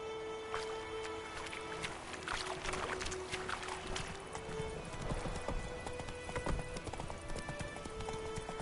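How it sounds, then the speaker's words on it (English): Hooves clip-clop steadily as a horse runs in The Witcher video game, the rapid beats staying close and continuous over a bed of game ambience and music. "Run, Roach"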